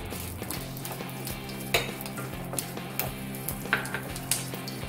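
Ginger, garlic and green chillies hiss steadily in two or three spoonfuls of hot oil for spicy misal pav, with a few sharp utensil clinks and scrapes over the constant sizzle.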